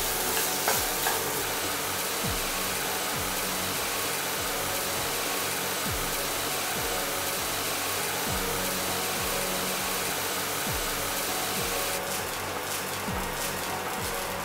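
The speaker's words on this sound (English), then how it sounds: "Saute this till the rice is completely and evenly covered in the gravy" Fried rice sizzles loudly in a pan as it is stirred through gravy, a continuous hiss broken by regular scraping strokes of a spatula, close and alone with no talking.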